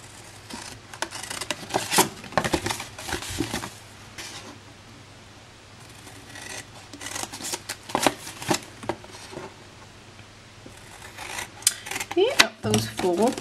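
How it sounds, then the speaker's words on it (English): Scissors snip cut lines into a paper gift box template, a series of close, crisp cuts and papery rustles spread across the clip, with a busier cluster of snips near the end and no talking. "we're going to snip up each of these 3 lines here"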